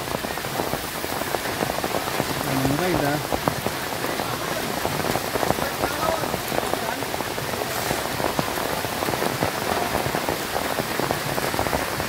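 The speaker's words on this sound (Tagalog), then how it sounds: "Umuulan na ha." Steady, dense rain pattering on a surface all around, loud and continuous, with a person briefly talking over it.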